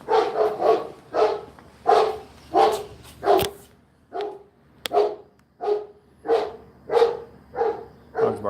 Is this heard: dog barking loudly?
yes